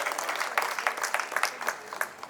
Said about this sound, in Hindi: एक बार जरा सभी तालियां बजा के आदेशित करते हैं